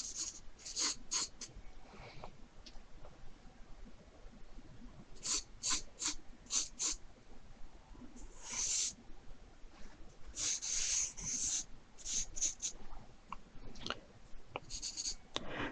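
A pencil scratches and rubs across newsprint paper in bursts of sketching strokes, close and fairly quiet, with short pauses between the scratchy passages.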